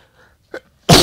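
A single loud, close sneeze bursts out at the end, preceded by a short sharp intake of breath and near silence.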